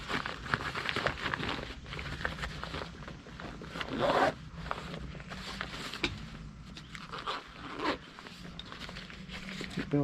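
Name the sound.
zippers on a Durston Kakwa 40 backpack being worked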